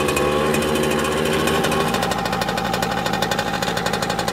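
A Yamaha PW80 small two-stroke dirt bike engine idles steadily, a loud, continuous buzzing rattle with rapid even pulses and some looseness rattling in the exhaust, heard close with no talking.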